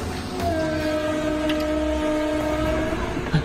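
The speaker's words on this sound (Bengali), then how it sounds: "হ্যাঁ, একটা ট্রেনের আওয়াজ।" A train rumbles past with a steady loud roar and a long sustained horn tone running through it, no voices.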